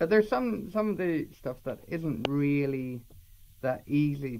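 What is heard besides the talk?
None of the usual background noises is heard.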